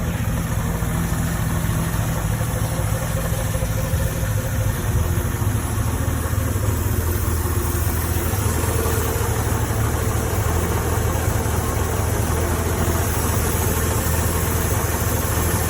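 A Triumph Vitesse Mark 2 convertible's engine idles smoothly and steadily, a constant low rumble that holds at an even level throughout with no voices over it.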